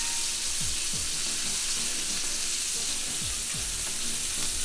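Beef tenderloin steak sears in a hot pan with a loud, constant sizzle and spatter, while a few brief low scrapes or thumps from handling the meat break through the frying.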